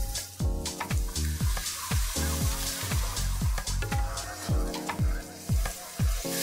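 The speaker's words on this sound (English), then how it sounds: "Adding the chili paste." Chili paste sizzling and being stirred in a frying pan, a steady close hiss with repeated scraping strokes from the utensil, no talk.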